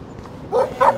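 Two short barks from a dog in the video game Life is Strange, a brief pause between them, over a low steady background hum.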